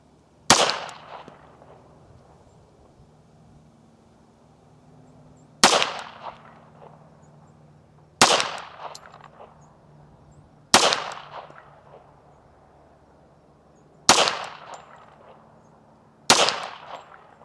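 Six single pistol shots from a 1911 at an outdoor target practice, each a sharp loud crack with a short echoing tail, spaced a few seconds apart with quiet between them.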